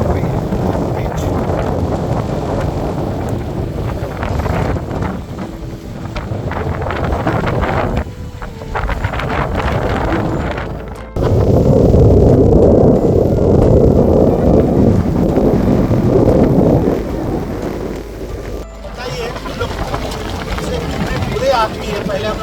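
Strong wind with heavy rain beside the Ganges at Sultanganj, with waves rising on the river, comes through as a loud, continuous roar and gusty buffeting against the microphone, and someone talks over it.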